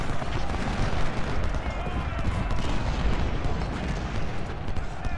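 Massed musket volleys roll across a Civil War battlefield in Ultimate General: Civil War, a dense continuous crackle of distant shots and rumbling booms that stays steady throughout.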